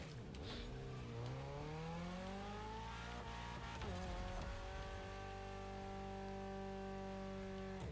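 A race car engine in The Crew Motorfest roars continuously, revving up and shifting pitch as tires squeal through a drift, loud and close with no voices.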